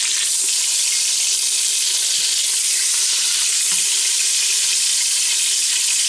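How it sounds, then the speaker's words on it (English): Filet mignon steaks sizzle steadily in an Instant Pot set to sear, a continuous loud broadband frying hiss with faint crackles throughout and no talking. "now they're pretty much seared on all sides, so I'm going to hit the cancel button on the Instant Pot here"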